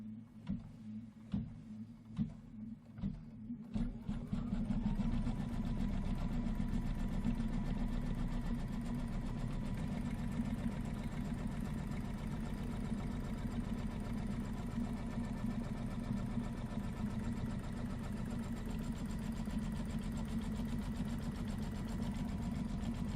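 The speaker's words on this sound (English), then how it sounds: "let's stitch down the fabric." Sewing machine stitching down fabric on a pillow wall hanging, a few slow starting clunks, then a steady, fast, close mechanical whir running continuously to the end.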